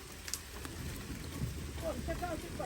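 Heavy rain pours steadily onto a campsite at night while food is cooked outdoors, a dense constant hiss with occasional louder drops and low rumbles. A faint voice-like sound appears near the end.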